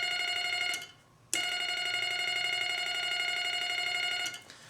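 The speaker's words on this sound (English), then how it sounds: "if I hold the dot side of the paddle down, you hear a nice clean series of dots." Rapid, evenly spaced telegraph dots from a Vibroplex bug key held on the dot side, forming a steady ringing tone-like stream that breaks off briefly, resumes and then stops, heard alone and close.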